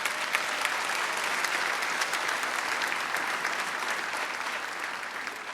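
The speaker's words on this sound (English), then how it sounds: "All of you, give yourselves a round of applause." Loud, dense applause rolls through a legislative chamber at the inauguration of the Illinois House of Representatives, a large crowd clapping steadily and evenly with no pause, fading only slightly toward the end.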